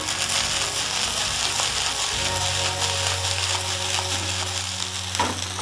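Fried rice gets stirred and tossed in a wok, with sustained sizzling and frying over scraping, clattering strokes of a utensil against the pan, close up and with no voices.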